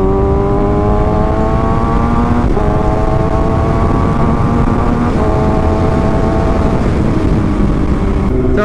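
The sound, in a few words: Kawasaki ZX6R 2022 sport bike engine revving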